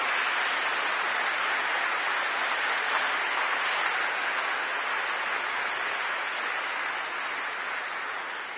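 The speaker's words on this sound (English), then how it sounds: "Let's give a big clap to all involved in the making of the cake." A church congregation at a jubilee Mass gives sustained applause for the cake makers, a dense, even wash of clapping from many hands lasting several seconds and tapering slightly at the end.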